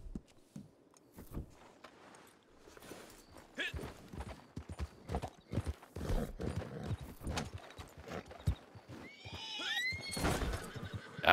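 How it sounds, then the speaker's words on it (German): A nervous horse in Red Dead Redemption 2 Online gives a shrill whinny amid hoof clip-clops and game noise, while someone talks throughout. "ist das Pferd jetzt aber mal richtig nervös hier"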